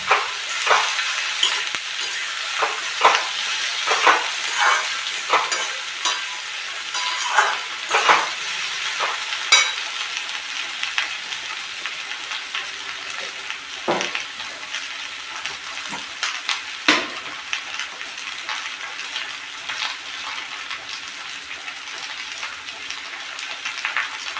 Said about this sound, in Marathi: भेंडी एकत्र फ्राय होते मस्त क्रिस्पी क्रिस्पी भेंडी टाकतो